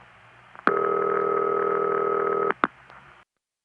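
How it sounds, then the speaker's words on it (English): A dull, buzzy 1970s Bell telephone "City Ring" tone sounds once for about two seconds, followed by a couple of clicks, then silence. "this is the ring that the phone freaks called City Ring"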